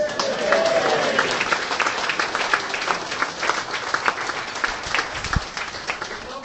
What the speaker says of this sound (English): A round of applause for my boss Matt.